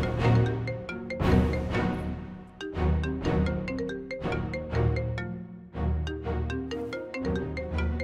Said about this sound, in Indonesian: Tumben Alia telepon papa.